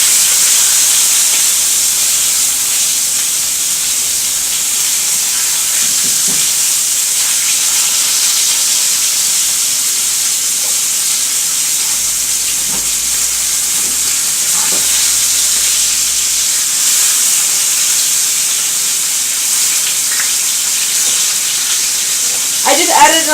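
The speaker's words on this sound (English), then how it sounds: "I'm going to check the bottom of my meat, and that looks pretty good. So I'm going to go ahead and flip it" A pork chop sizzles steadily in a hot pan just after being flipped, a continuous close hiss of frying fat with faint scrapes and a brief voice near the end.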